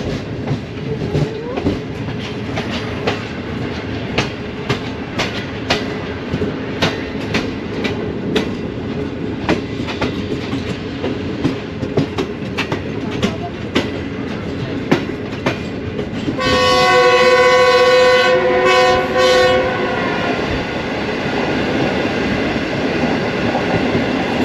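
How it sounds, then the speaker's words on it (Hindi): Green Line Express passenger train passing Noor Junction, a steady rumble with rhythmic clickety-clack of the wheels throughout, then a loud, sustained horn blast near the end. "ट्रेन हमारी नूर जंक्शन से गुजर रही है इस वक्त"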